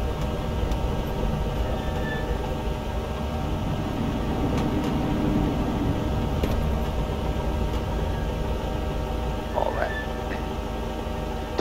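A Piper Cherokee in a flight simulator taxis toward runway 17 with a steady, droning engine hum and faint clicks, continuous and fairly loud, with no talk.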